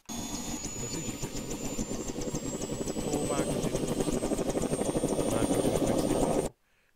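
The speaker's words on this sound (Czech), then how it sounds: "Nádherně ozvučený ty vrtulníky jsou." Military helicopters in the video game Arma, a loud continuous rotor thump and turbine whine growing slightly louder before cutting off abruptly, with no talk.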